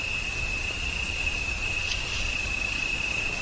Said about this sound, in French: Il y a une sauterelle devant toi